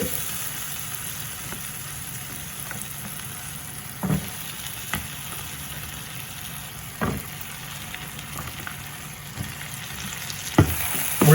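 Onions and radish sizzle and fry in a pan for a radish and drumstick sambar, a steady close frying hiss broken by a few sharp stirring scrapes and clinks, with no talking.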